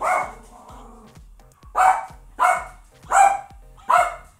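A dog barks repeatedly at a home security surveillance robot, a close, loud run of about five sharp barks in an irregular rhythm, with a growly bark at the start and no talking.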